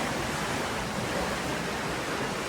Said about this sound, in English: they have a very unique feature here that starts right here at this bubbling fountain